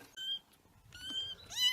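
A kitten meows in several clear, high-pitched calls, close and alone, with short gaps between them and the last call rising in pitch.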